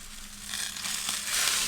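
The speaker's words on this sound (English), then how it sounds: "We're going on skin side down. Really hot grill." Rainbow trout laid skin side down on a very hot Aldi kamado grill gives a steady, close hiss and crackle that grows louder and denser as it sears, with no talking over it.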